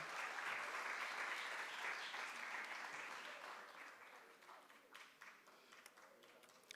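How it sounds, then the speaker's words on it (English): A school mental math competition audience applauds the competitors, a dense, steady patter of many hands that stays loud for about three seconds before thinning and fading into scattered claps. "Let's give all of our competitors a round of applause this morning."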